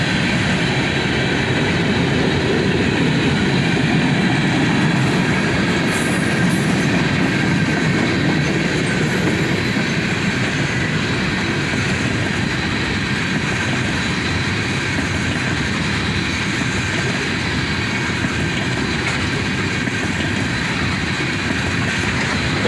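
A southbound freight train with an old covered hopper rolls past close by, its steady loud rumble and clickety-clack of wheels on rail joints continuing throughout with no talking.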